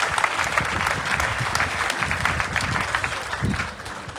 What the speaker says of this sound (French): j'aimerais qu'on acclame encore pour ces temps